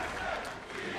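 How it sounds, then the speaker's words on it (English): An esports arena crowd at an LCS EU Summer 2016 League of Legends match roars and cheers in a steady, dense wash of voices that fills the whole second. "the crowd is definitely getting pretty hyped for today's games"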